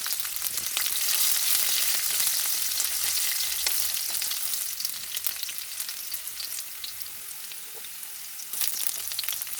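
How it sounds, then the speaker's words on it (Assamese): Sliced onions fry in hot oil, a continuous close sizzle with crackling pops and intermittent stirring, no one speaking. "পিঁয়াজখিনি ৰঙচুৱাকৈ ভাজি ল'ম।"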